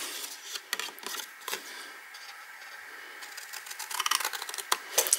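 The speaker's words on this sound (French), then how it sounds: "on va juste découper un peu en dehors de ces lignes de marquage pour faire un onglet comme ceci" Scissors cut a half-centimetre assembly tab just outside the marking lines on a triangular box piece, heard as close, soft rasping snips and paper rustles that grow busier toward the end.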